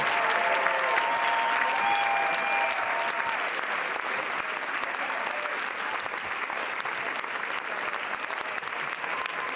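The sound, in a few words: festival audience applauding at Cannes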